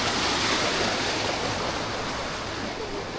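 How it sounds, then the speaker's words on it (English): Water rushes out steadily near a canal, a loud, continuous broadband wash with no breaks. "Oh, there's the water coming out."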